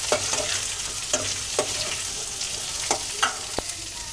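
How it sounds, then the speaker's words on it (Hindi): Chopped onions stirred into peanuts frying in a pan, with a steady sizzle under repeated scraping and clinking strokes of a spoon at an irregular rhythm, close and fairly quiet. "अब इसी में हम डाल देंगे ये कटी हुई प्याज और इसे मिला लेते हैं।"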